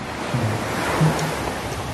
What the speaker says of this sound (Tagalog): So andyan pa rin yung alon naririnig mo.